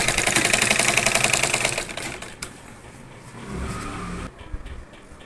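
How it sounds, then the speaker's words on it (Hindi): A sewing machine running fast to stitch along a saree belt, giving a rapid, even mechanical rattle for about two seconds before slowing to softer handling noises and a short burst of whirring. "इस तरह से हम पूरी बेल्ट पे सिलाई लगा लेंगे।"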